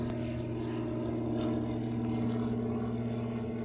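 A gyroplane's aircraft engine idles at low throttle after its injection and ignition control were replaced. It gives a steady, close droning hum with even harmonics and no talk over it.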